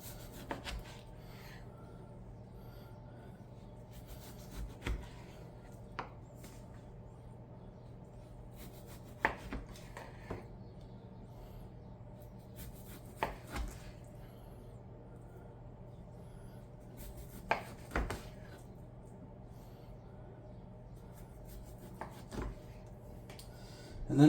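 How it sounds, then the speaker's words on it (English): A knife slices pork into thick chops on a board, giving sparse, separate cutting thuds and soft scrapes spread across a quiet background with a low steady hum. "I'm going to cut these into chops"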